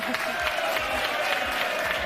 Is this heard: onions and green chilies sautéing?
no